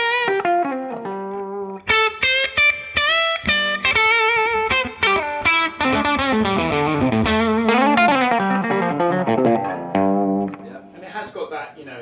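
A 1958–1959 Gibson Les Paul electric guitar played loud through distortion and chorus effects, a flowing run of bright sustained notes and chords filling the whole stretch with reverb, no talking.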